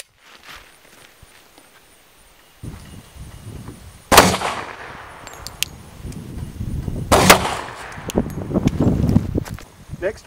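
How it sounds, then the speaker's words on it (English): A Glock 23 pistol with a Robar finish fires 180 grain jacketed hollow points at an armored laptop bag target, two loud, sharp gunshots a few seconds apart outdoors, with shuffling sounds and voices around them. "we're going to shoot the target with a Glock 23 with a Robar finish on the top end, and we're using HPR 180 grain jacketed hollow points"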